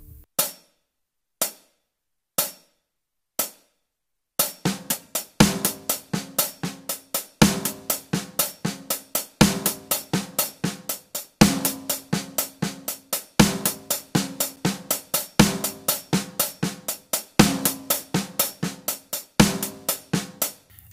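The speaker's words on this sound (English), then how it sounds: "between hi-hat and snare drum, the Garibaldi sticking sounds like this." Drum pattern in the Garibaldi diddle sticking played between hi-hat and snare drum: a few separate single strokes, then a steady, dense, rhythmic run of crisp hits, close and loud, with no talking.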